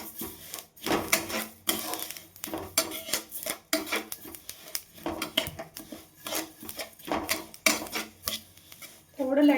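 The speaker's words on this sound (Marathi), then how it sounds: "बारीक गॅसवरच भाजून घ्यायचं सर्वच साहित्य" Mukhwas spices and seeds being dry-roasted and stirred in a pan over a low gas flame, with repeated scraping and clinking of a spoon against the pan in uneven strokes, close and moderately quiet.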